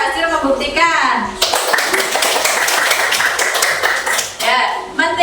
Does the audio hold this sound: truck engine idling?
no